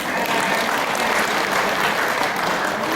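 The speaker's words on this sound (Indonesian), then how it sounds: "kita berikan tepuk tangan untuk" Audience at a patent-holders' work meeting applauds the speakers, a loud, even, sustained clapping that fills the whole stretch without a break.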